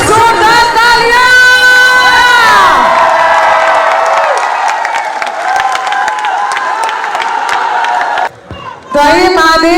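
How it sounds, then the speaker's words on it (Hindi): A large crowd at a stage programme applauds and cheers loudly, with whoops and shouts over continuous clapping that dips briefly near the end before swelling again. "एक बार फिर से जोरदार तालियां।"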